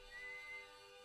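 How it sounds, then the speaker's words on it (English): A character in the Outer Wilds video game whistles a faint, thin sustained tune, a brief high melodic line heard alone at low level. "No, that's the guy whistling."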